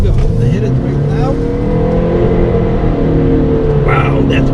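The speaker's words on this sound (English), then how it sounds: "that roar of that engine" A 2022 Honda CR-V EX-L engine pulls hard under acceleration through a turn, a loud, steady drone building in pitch. A voice talks over it near the end.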